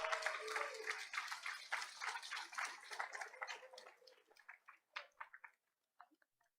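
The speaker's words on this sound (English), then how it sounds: "please give them one more round of applause for their work" A room full of people at a school board meeting claps for a Gold Award-winning school group. The applause is dense and steady at first, then thins into scattered individual claps and fades out, heard from a moderate distance.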